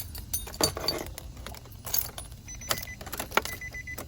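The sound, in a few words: car key turned in ignition, keys jangling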